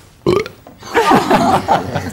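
A loud, drawn-out burp rumbles for about two seconds after a brief vocal sound, close and alone with no talk over it.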